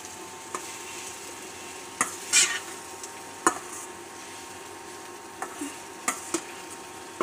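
Maggi noodles being stir-fried in a kadhai on an induction cooktop: a soft steady background hiss with sharp scattered scrapes and clinks of a spatula against the pan, about a dozen over several seconds, with no talking.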